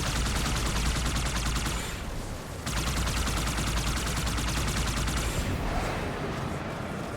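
Rapid gunfire and sniper shots in the Halo 2 video game, a dense, loud barrage of repeated bursts running almost continuously, with a brief lull partway through.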